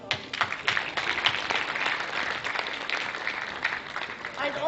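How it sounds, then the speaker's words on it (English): A conference audience gives a round of applause, a dense, continuous wash of many hands clapping at close to moderate distance, with a few voices mixed in. "I think they deserve a round of applause."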